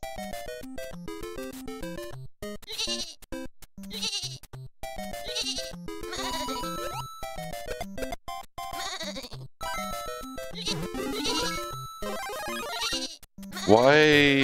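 Sheep bleat repeatedly among bright, busy game music and sound effects in a video game level, layered and cacophonous, with a voice talking over parts of it.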